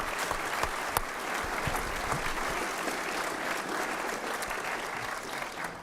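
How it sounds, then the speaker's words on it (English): Audience applause for the supporters at an elevator pitch competition fills the room, a steady dense clapping from a sizable crowd with a few sharper claps standing out, continuous throughout. "How about a big round of applause for all the supporters?"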